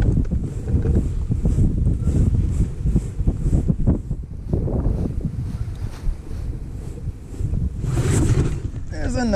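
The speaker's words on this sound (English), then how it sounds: "Blowing 15 miles an hour out of the wind here" Strong wind, around 15 miles an hour, buffets the microphone on a choppy lake during fishing, roaring and gusting steadily with churned-up water beneath, while someone talks over it.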